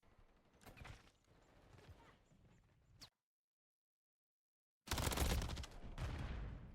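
Striker shotgun fire in a Modern Warfare 3 ranked match: a dense burst of sharp shots, then a sudden silent gap, then a loud heavy volley of blasts and mechanical clatter, close up.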